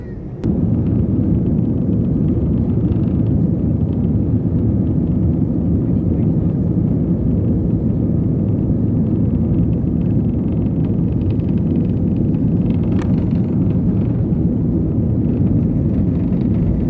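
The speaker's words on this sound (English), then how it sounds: "We have boarded the plane and it's about to take off from Chandigarh for Pune." A SpiceJet airliner's engines roar loudly and steadily from inside the cabin while it takes off from Chandigarh, a dense low rumble that holds for the whole stretch after a sharp click at the start.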